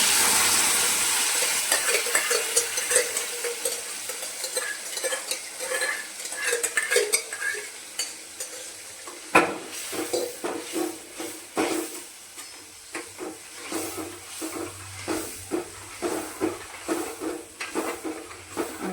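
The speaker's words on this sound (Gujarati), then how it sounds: "જે આપણે ટમેટાં અને દૂધીની ગ્રેવી કરી હતી એ એમાં આપણે મિક્સ કરવાની છે" Tomato and bottle gourd gravy stirred in a frying pan, with a soft sizzle at first, then a long run of rhythmic metal spoon clinks and scrapes against the pan, close and fairly loud.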